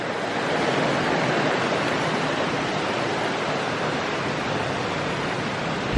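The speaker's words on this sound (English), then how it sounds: "Now the next waterfall is the largest waterfall" Cheaha High Falls in Alabama, a large waterfall, gives a steady, loud broadband roar of falling water that stays constant and near throughout, with no voices over it.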